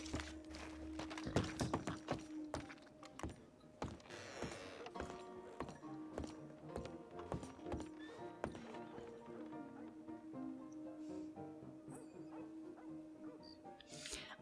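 Horse hooves clopping in Red Dead Redemption Online, irregular thuds and clops of a horse moving about over soft sustained background tones.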